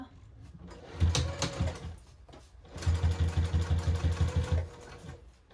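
A sewing machine stitches a tote bag in two runs, a short burst and then a longer, steady, rapid chatter of stitches, loud and close with pauses between.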